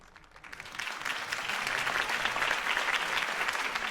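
Crowd applause in the video game Batman: The Telltale Series following a Harvey Dent campaign speech, swelling from a quiet start into a sustained, dense roar of clapping from many people.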